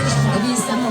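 A crowd at the Los Cardales bonfire festival cheers and shouts to welcome performers, a loud close wash of voices and whoops with an announcer talking over it.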